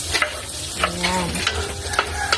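Onions fry in a pan for a macaroni spaghetti snack, a close crackling sizzle broken by repeated spatula scrapes and clacks, with a brief faint tonal sound in the middle.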